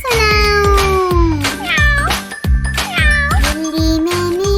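A cat meows repeatedly and close, a series of drawn-out, wavering cries in a steady rhythm with short gaps between them, loud and clear with no talking.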